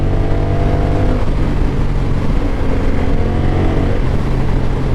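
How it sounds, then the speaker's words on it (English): A stock Honda Rebel DCT motorcycle engine in sport mode drones loud and close with a steady, throaty hum, holding its gear on a rough road. "I'm impressed with the way these bikes sound stock"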